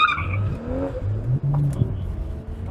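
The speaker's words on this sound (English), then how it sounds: "That was a good slow slide. Not full spin, but a half spin." A car in a BMW driving class slides into a half spin, its engine droning loudly under a short tire squeal and skid, with a voice speaking over it.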